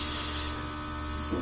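A Luminess Air airbrush sprays blush makeup lightly onto a wrist, giving a close, soft hiss that is strongest for the first half second and then continues quieter over a faint hum.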